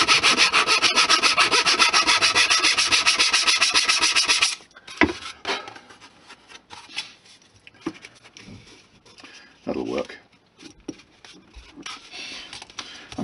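Small wooden boards on an HO-scale model mining structure being chamfered, a fast regular rasping scrape for about four seconds, then scattered quieter scratches and short scraping strokes close by.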